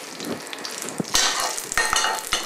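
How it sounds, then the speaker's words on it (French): Butter mixed with other fats bubbling and frying in a pan, a close, crackling sizzle that grows busier after a moment, punctuated by a few soft knocks of utensils, with no one talking. "L'effet mousseux, c'est un petit peu ce qui est en train de se passer là quand ça commence à buller comme ça."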